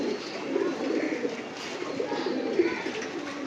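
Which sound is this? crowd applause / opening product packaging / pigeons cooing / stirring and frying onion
pigeons cooing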